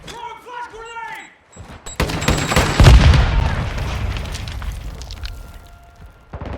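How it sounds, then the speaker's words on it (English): A flash grenade goes off in Modern Warfare 2 during a team deathmatch: a sudden loud burst with a booming low rumble that decays over a few seconds, preceded by brief voice chatter and followed by scattered gunfire. "Throwing flash grenade."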